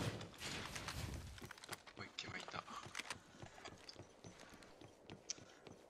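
Footsteps tap out in a quick, steady rhythm in a game, sharp repeated steps at close range, while people talk over them.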